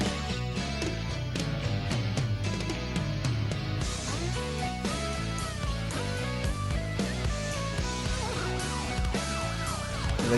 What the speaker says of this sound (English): Police,